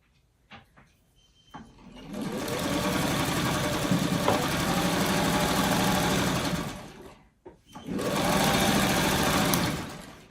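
A domestic sewing machine joins freeform quilt block pieces in two long runs of fast, steady mechanical whirring, close and loud, with a brief pause between the stitching bursts.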